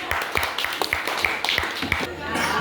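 A classroom of students clapping for a group, a quick scattered patter of hands at moderate volume, ending with a brief lull.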